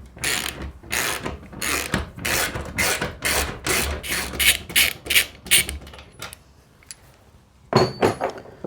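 Ratchet wrench clicks in quick bursts while bolts come out around the top of the bulkhead of a Ford Transit Custom van, close and fairly loud, with short pauses between spells of cranking.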